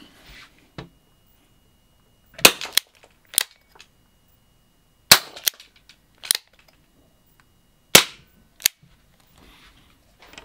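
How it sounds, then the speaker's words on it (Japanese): Sharp, isolated gunshot-like pops from a Tanaka Works S&W M29 toy gas revolver, fired singly with pauses, some shots in quick pairs, close and loud against a quiet background. "なんかでもいい発射音してません"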